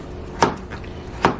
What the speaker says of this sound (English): chopping these potatoes